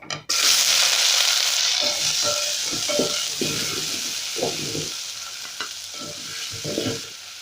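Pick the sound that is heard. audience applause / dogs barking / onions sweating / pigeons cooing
onions sweating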